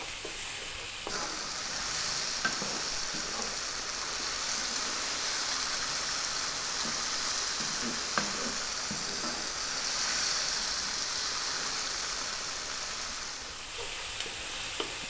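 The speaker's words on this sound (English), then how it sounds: "Keep it moving and stir it often now because we've got our spices in there." Spices frying over high heat in a pan for a baked bean nacho dish make a soft, continuous sizzle with occasional light stirring clicks, like gentle rain, and nobody speaks.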